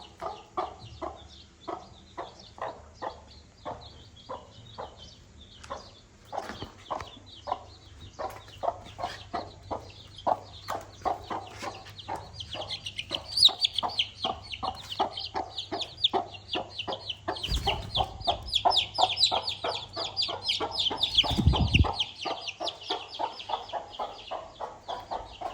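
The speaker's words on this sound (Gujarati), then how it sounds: "જો મિત્રો કુકડા છૂટા હે." Free-roaming hens cluck close by among a few newly hatched chicks only days old, a busy run of soft repeated clucks and cheeps that grows louder toward the end, with brief bumps and handling noise.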